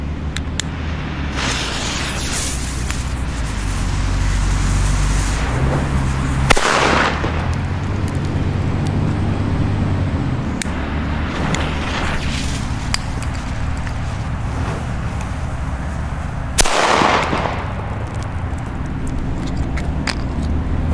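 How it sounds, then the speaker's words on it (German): Pyroland firecrackers go off outdoors on New Year's Eve: a few heavy booms cut through a constant loud rumble of distant fireworks and wind, with sharp blasts near 6.5 and 16.5 seconds. "Jetzt würde ich sagen, gibt's die Pyroland-Böller."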